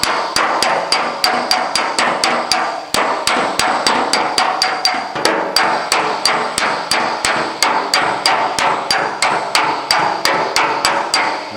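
Rapid, steady hammering on an aluminum auto body panel to work out dents, with dozens of sharp, close metallic taps in an even rhythm, broken by a brief pause partway through.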